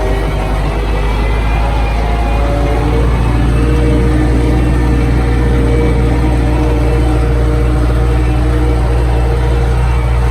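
A tractor drives forward in low sixth gear on a farm, its engine a loud, steady low drone and rumble that holds evenly throughout with no talk heard.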